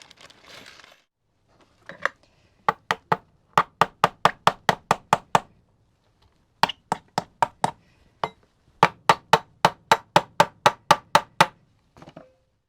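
A series of sharp metallic taps from hammering with the back of an old spoon, struck in quick bursts of roughly a dozen blows with short pauses between groups, close and fairly loud.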